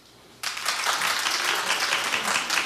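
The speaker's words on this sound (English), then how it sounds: "Clap if you watched." A studio audience on the Wendy talk show bursts into applause after a quiet moment, a dense, even wash of clapping that holds steady to the end.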